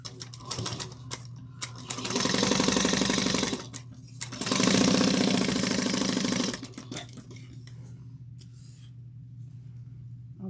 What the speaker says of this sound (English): we're going to sew with a 1/2 inch seam allowance